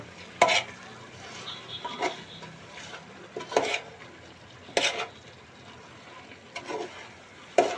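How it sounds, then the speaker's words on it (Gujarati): Red chilli powder stirred into oil in a pan for Kashmiri chicken gravy, a faint low sizzle under intermittent scraping strokes of a spoon against the pan, several distinct sweeps spaced a second or so apart. "અને હવે આપણે એને હલાવી નાખશું"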